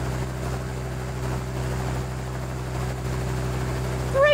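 A zeppelin flying in the Dinosaur Train Rail Rally video game gives off a steady, droning engine hum that stays even throughout, with a brief rising chirp near the end.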